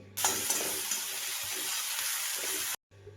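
A paste of green chili, garlic and coriander hitting a hot pan with onions for an okra dish, sizzling loudly and steadily for a few seconds with light stirring before cutting off abruptly.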